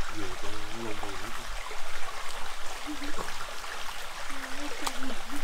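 Small stream of flowing water in the jungle, a steady broadband rush and trickle filling the whole clip, with brief voices speaking intermittently over it.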